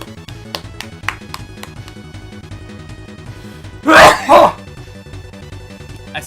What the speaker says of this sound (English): I sneezed, by the way.